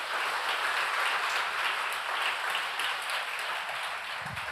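A church congregation applauds steadily, a dense broadband wash of many hands clapping at once that holds evenly throughout, moderately loud, with no talk over it.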